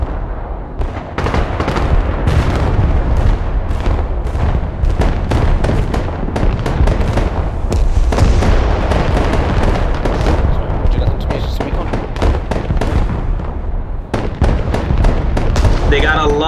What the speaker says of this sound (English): They got a lot of artillery on the left side